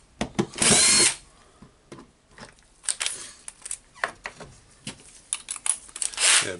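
A Makita 18V DDF453 cordless drill drives screws in short whirring bursts, close and sharp, with one longer run near the start and clicks and handling noises between bursts.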